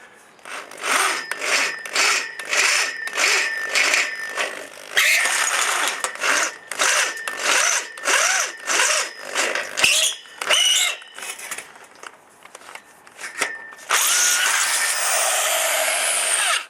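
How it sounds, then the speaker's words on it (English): A power drill boring 8mm holes through steel whines in repeated short bursts, pausing between each run, then a longer steady grinding stretch near the end. "So I'm just going to go through and enlarge these holes now with the 8mm."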